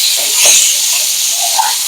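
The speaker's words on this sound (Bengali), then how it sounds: "বেগুনটা একটু লাল লাল করে ভেজে নিতে হবে।" Eggplant frying in a pan, heard as a loud, bright, continuous hiss of hot oil that stays even for the full couple of seconds.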